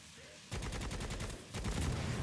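Rapid automatic gunfire rattles in a fast, steady stream of loud shots in Necromunda: Hired Gun. It starts suddenly after a quiet moment and briefly pauses before resuming.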